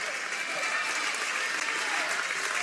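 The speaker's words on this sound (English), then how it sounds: "Coach Baumstark playing the part of the role of the cheerleader, getting the crowd going here." Crowd at a high school boys basketball conference championship game applauding and cheering steadily, a dense continuous roar of clapping at fairly close range throughout.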